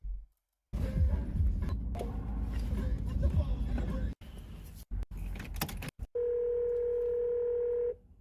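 A telephone handset gives quick dialing beeps, then a steady dial tone holds for about two seconds, heard inside a car on a highway over a constant engine rumble with brief clicks.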